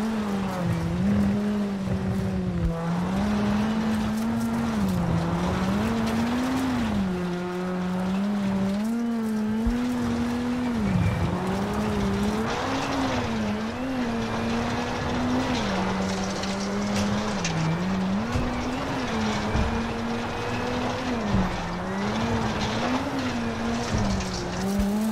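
A rally car in the WRC 7 video game at Rally Finland holds a loud, steady engine drone that rises and falls with the gear changes, plus the odd tire scrub, throughout with no talk.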